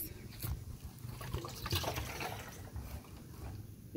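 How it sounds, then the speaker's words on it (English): Water swishes and trickles in a continuous, faint wash as rice is rinsed in a bowl outdoors. "I'm going to wash out this and I'm going to wash the rice"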